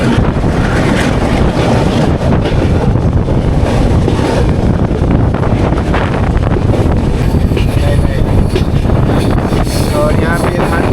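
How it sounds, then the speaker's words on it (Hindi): A train runs through forest on the New Jaipaiguri to Agartala line, giving a steady, loud roar of wheels and rushing wind that holds constant throughout, with faint clatter on top. "इस तरीके से जंगलों से हमारी ट्रेन जा रही है।"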